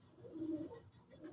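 A pigeon gives a single soft, low coo that swells and fades in about a second, faint and close, with no other sounds.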